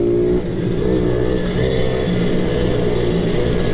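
Mini motorbike engine revving hard during a race, a continuous buzzing, strained drone that holds steady throughout without a break, loud and close.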